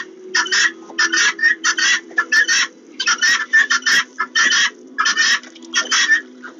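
Farm chickens, a few seemingly a little sick, cluck close by in repeated short rhythmic bursts over a steady low hum, with no talking.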